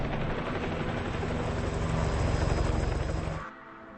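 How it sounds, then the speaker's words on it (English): A helicopter is heard close by, its rotor and engine roar running loud and steady over a volcano setting before cutting off sharply near the end. "put the chopper down so that he can review the footage"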